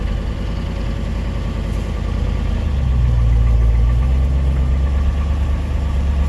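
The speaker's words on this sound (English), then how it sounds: "Good old Y block exhaust leaks and everything." A rough Ford Y-block V8 in a 1959 Ford F-100 4x4 pickup, with exhaust leaks, idles steadily nearby with a low, uneven rumble that deepens and grows slightly louder partway through, with no talking.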